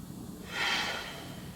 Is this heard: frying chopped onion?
no